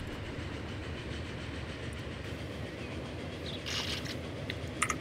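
A Flying Scotsman steam train runs in Transport Fever with a steady rumbling roll and clickety-clack of the wheels, heard alone at an even, fairly close level, with a short hiss and a couple of clanks near the end.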